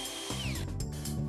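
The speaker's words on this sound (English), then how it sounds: "drill a hole." A power drill bores a hole during assembly of a pan drawer unit, a close, steady whirring whine that shifts pitch briefly as the bit spins up.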